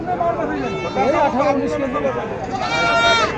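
Goat bleats sound close by, wavering and nasal, mixed in with people chattering in the background at a goat market in Nilphamari, Bangladesh.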